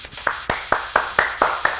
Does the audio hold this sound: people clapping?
yes